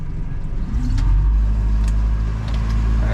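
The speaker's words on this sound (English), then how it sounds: "fire this baby up, turn it on, then put it in gear" Jetcraft boat engine starting and settling into a loud, steady low rumble close by, with faint clicks over the running engine.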